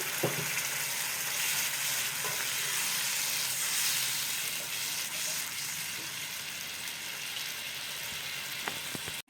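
A pan of paneer masala sizzles with a broad, steady hiss as water is poured in, the sound staying loud and even with a few faint clicks from the pan.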